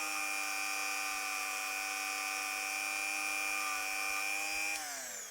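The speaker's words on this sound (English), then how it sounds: "Rotary tool, worth the weight in gold" A rotary tool cleaning an engine part from an old tank engine, giving a steady high-pitched whine that drops in pitch at the end as it winds down, loud and close, with no talking.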